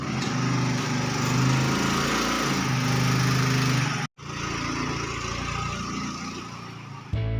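Small motorcycle engine starting and running at a steady, loud idle close by, with a brief cutout midway before the motor picks up again, outdoors at a Christmas fair in a town lit up for the holiday.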